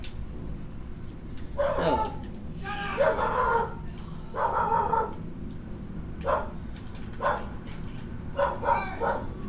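Dogs bark in the background outdoors, several separate short bursts spread across the stretch at moderate distance over steady ambient noise, with a brief spoken word.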